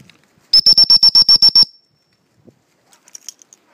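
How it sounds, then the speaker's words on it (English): A dog training recall whistle for a spaniel sounds outdoors as a loud, shrill run of about eight rapid, evenly spaced peeps, followed by near silence and faint distant sounds. "I'm going to whistle him now"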